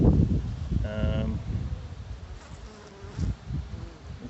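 Honeybees buzz around a hive frame infested with hive beetles, a short bright drone rising near the start over steady background rustle and wind.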